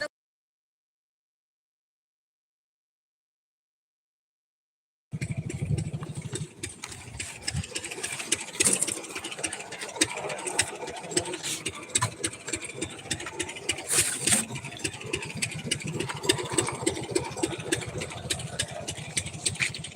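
After five seconds of silence, a motorcycle engine idles nearby with a steady, slightly uneven putter that continues to the end.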